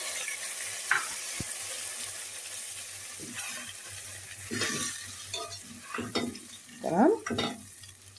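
Tomato sauce hits a pan of browned fried onion and garlic, giving a soft continuous sizzle under repeated scraping stirs of a spoon that swell in short bursts toward the end.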